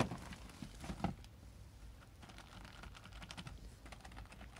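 Typing on the keyboard of an Esprit 125C dumb serial terminal: a quick burst of key clicks, then lighter scattered keystrokes, close up and alone with no talk.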